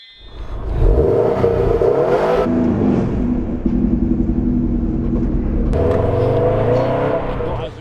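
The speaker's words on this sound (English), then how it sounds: "And finally, Twazzock, can you do an all-wheel burnout?" A Subaru WRX STI spins all four wheels in a burnout on sand, its engine roaring and revving hard with a loud, sustained rumble that surges, dips briefly and climbs again near the end.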